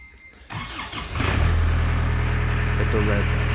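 A John Deere 318E skid steer engine cranks briefly and catches, then settles into a loud, steady running rumble close by, with a voice talking over it.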